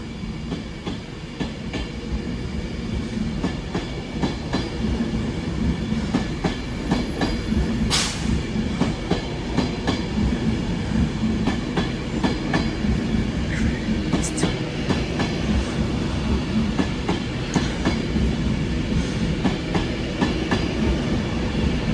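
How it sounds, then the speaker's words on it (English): An Avanti West Coast train to Manchester Piccadilly rumbles steadily past on a platform, loud rolling wheels with clickety-clack rhythm and occasional brief squeals throughout. "Parting now is the 11:10 Avanti West Coast service to London to Manchester Piccadilly."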